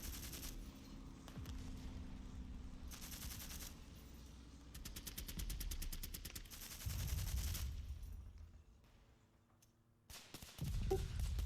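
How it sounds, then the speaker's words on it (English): Machine-gun fire in the ASL board wargame, heard as several separate bursts of rapid rattling shots under a steady background hum, with a brief lull near the end before a final burst. "The machine gun in H4 will fire at the broken squad"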